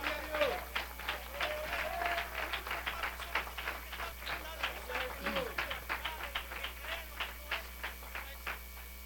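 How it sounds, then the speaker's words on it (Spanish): A church congregation at a general service claps for the Lord, rhythmic group clapping in a steady beat with voices calling out over it. "Démosle un aplauso al Señor"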